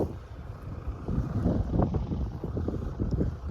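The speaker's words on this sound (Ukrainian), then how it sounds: "Ось такий фон виходить, вітер просто неймовірний, сушить." Strong wind buffets the microphone in heavy, uneven gusts over an open farm field at barley sowing, a loud continuous rumble with no voices.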